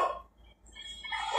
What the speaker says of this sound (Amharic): ውሻ